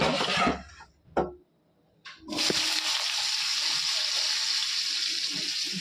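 Steady, loud sizzling of potatoes frying in hot oil for a prawn curry fills most of the clip after a few brief clattering knocks at the start.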